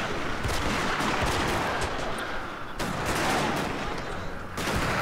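Unbroken, dense crackles of musket and rifle fire pour from units fighting in the strategy game Shogun 2, with a moderately loud, chaotic rattle throughout and no voices.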